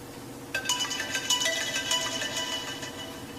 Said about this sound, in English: We're going to play a ringtone here. So let's start off with the one in Coke.